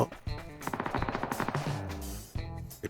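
A rapid burst of PUBG video game gunfire crackles in a steady rhythm for about two seconds, then a short second burst follows after a brief pause.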